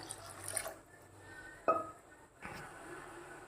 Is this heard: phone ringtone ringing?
no